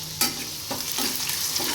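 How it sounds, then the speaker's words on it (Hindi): Spices sizzling and crackling in hot oil as a tadka for dal, with cumin, asafoetida, garlic, long-cut ginger and red chilli added, steady frying hiss with a few sharp pops and stirring scrapes, close and without talk. "और इधर लगा रहा हमारी दाल में तड़का।"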